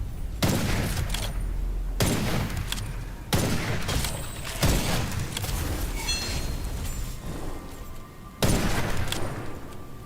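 Sniper rifle shots in the dark-fantasy first-person shooter Witchfire, heavy booming reports fired one at a time at steady intervals of roughly a second or two, each followed by a rumbling tail.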